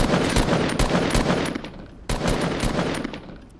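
Gunfire in a Fortnite squad match, with rapid automatic bursts, loud and close, and a short pause before another barrage starts.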